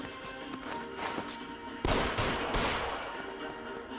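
Gunfire during a shootout in the L.A. Noire video game: dense, loud bursts of shots, with a sharp burst near the middle and a sustained barrage afterward.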